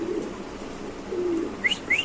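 Soft low coos from a pair of Damascene pigeons come in a few drawn-out calls, with brief higher chirps near the end. Steady background noise sits underneath.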